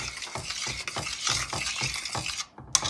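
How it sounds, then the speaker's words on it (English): A spoon stirs cheese into tomato orzo soup in a pot with repeated scraping, sloshing strokes in a steady rhythm, then a brief pause and a sharp clink at the end. "I'm going to stir that in"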